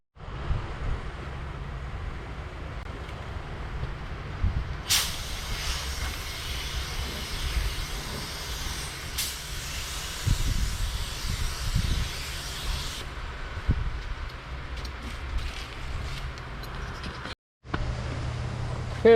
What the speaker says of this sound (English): we've got our primer sprayed on